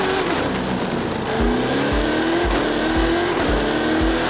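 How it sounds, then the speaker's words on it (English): A car engine in Forza Horizon 5 revs repeatedly, loud rising whines with rhythmic gear-shift drops, close and alone. "I must say, I like the sound of this engine."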